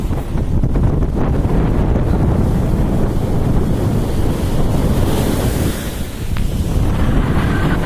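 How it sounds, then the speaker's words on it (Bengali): Foamy sea waves breaking on the shore near Chilka Lake, a loud, constant roar of surf mixed with heavy wind rumble across the whole stretch. "সামনে ঢেউগুলো একদম ফেনা ফেনা উঠে আসছে"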